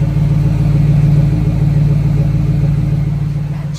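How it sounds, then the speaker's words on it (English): A 1996 Ford Mustang GT convertible's V8 idles through its exhaust, a deep, steady burbling rumble, loud and close, with a slight swell before settling. "But listen to that exhaust."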